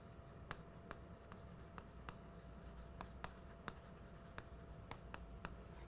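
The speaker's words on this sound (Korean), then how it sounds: "써볼게요." Marker or chalk writing on a classroom board during a Korean English-grammar lesson, heard as a steady series of sharp scratchy strokes and taps at close range over low room hiss, with no talking.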